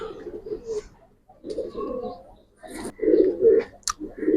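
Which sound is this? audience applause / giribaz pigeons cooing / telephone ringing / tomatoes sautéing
giribaz pigeons cooing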